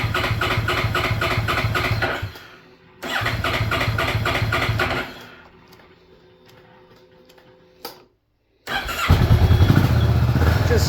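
A Kawasaki Vulcan 650S motorcycle engine idles close and loud in steady rumbling bursts, cutting out briefly twice and then running again.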